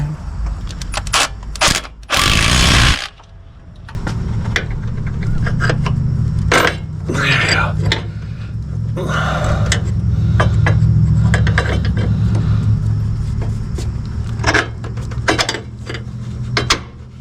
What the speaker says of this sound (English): Okay, just tighten all these up. I'm gonna use my swoopy wrench.